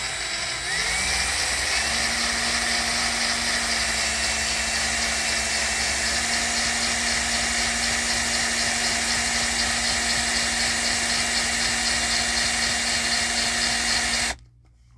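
A Cadillac Eldorado convertible top gearbox actuator motor runs in reverse, a steady high-pitched electric whine with a low hum that starts abruptly, holds evenly close up for about fourteen seconds, then cuts off.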